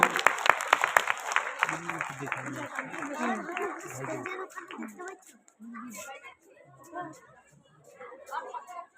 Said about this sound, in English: Please clap your hand all.